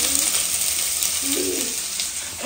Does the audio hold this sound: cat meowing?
no